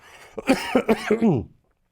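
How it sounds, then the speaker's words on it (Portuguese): A man coughs in a quick run of four or five harsh, voiced bursts during a studio interview, close and loud before falling silent. "essas tossidas elas serão necessárias"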